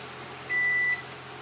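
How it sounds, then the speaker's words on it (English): A microwave oven gives a single steady electronic beep of about half a second as power flickers back on during a storm, clear over a quiet indoor hum. "There goes the microwave again."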